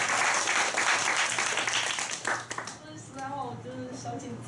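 Applause at a Taichung self-introduction meetup, a fairly close burst of clapping that fades after a couple of seconds, followed by a voice beginning to speak.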